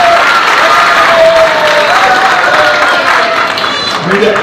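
Applause at a traders' gathering, a continuous loud wash of clapping from a crowd that holds steady throughout, with a faint tone running underneath.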